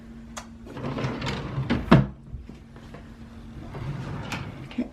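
A nursery dresser drawer slides open and shut, giving one clear wooden clunk near the middle over a low steady hum. Nobody talks.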